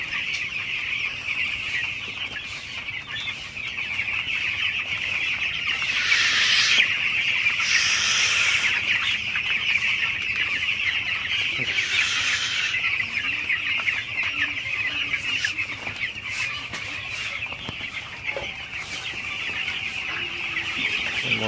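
Broiler chickens in a poultry shed cluck and chirp continuously as a dense flock, a steady close chorus with a few louder calls standing out.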